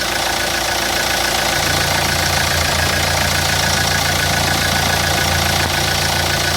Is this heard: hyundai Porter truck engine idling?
yes